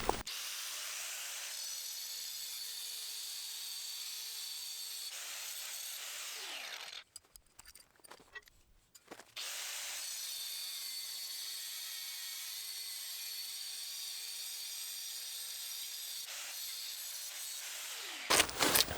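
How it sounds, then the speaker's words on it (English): An angle grinder's cutting wheel slices the head off a bolt or rebar pin for a sawmill foundation, a loud steady high whine running in two long passes with a brief pause between, close and alone. "I got my cutting wheel and my vice grips. I'm going to cut the head off here"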